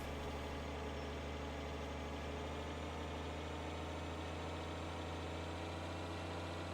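A tractor engine idles in Farming Simulator 2013 with a low, steady mechanical rumble and a faint vibrating hum, continuous and even, with no talk over it.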